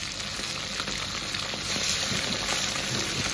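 Steady oil sizzle from a pan on high heat as meat slices render fat with Sichuan peppercorns, star anise, scallion, ginger and garlic for stewed mackerel, a continuous close hiss with no talk.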